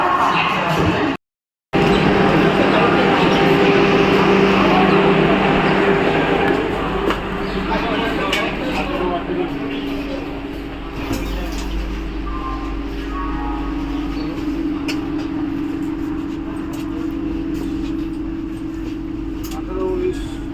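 A train waits at Howrah station, its steady low rumble and hum running under a busy platform din of crowd noise and voices for about twenty seconds, with a brief dropout near the start.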